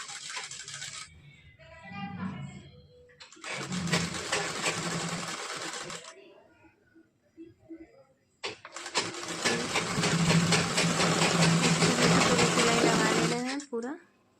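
A sewing machine stitching a katori blouse runs in loud, steady whirring bursts broken by short pauses, with a voice speaking faintly in the gaps.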